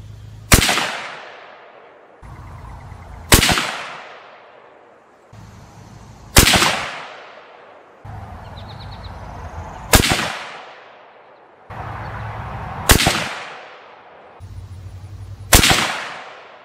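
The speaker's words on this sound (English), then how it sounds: "sighting this rifle in with that ammo on a bench rest" .30-06 rifle firing 150 grain ammunition from a bench rest at a range, six loud separate shots spaced a few seconds apart, each a sharp crack with a long decaying echo.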